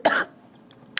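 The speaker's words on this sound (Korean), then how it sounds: "기침이 다 나오는데요." A man coughs twice during a studio interview, one sharp burst at the start and another at the end, close and loud with a quiet pause between.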